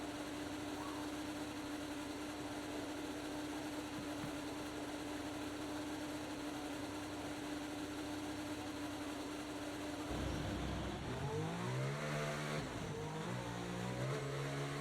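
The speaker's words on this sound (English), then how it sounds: "Okay, engines fired up, we're set." A Formula 1 car engine in the F1 24 racing game hums steadily in the garage, then revs up and down in rising, stepped surges near the end, with no voices.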